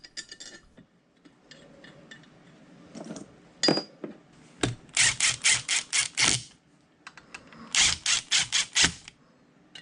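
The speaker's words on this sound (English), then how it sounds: "we'll get all of them started before tightening them down." Four 3-inch socket head cap screws being tightened into the backplate of a 10-inch South Bend four-jaw lathe chuck, with scattered metallic clicks and then two close runs of rapid ratchet-like clicking bursts.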